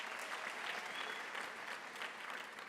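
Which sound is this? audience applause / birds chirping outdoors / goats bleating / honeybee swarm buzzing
audience applause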